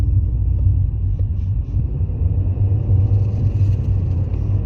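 A truck passes close by with a loud, steady, low engine rumble that fills the whole stretch without a break.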